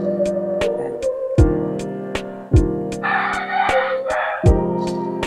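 Chickens crow in several long, drawn-out calls, close and loud, while sharp percussive drum hits land between and over them.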